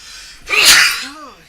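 A single loud, close sneeze bursts out sharply after a brief breath in, followed by a short vocal trailing sound from a person at a microphone.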